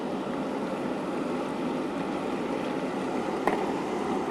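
Water pours steadily into a pot of braised pork with scallion, ginger, garlic, doubanjiang, dried Sichuan peppercorns, chillies and spices, making a continuous close rushing splash, with one brief knock near the end.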